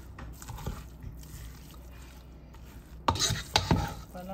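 Garlic and ginger paste stirred into a pot of ground meat and potato mixture, a spoon scraping softly at first, then a few louder clinks and scrapes against the pot near the end.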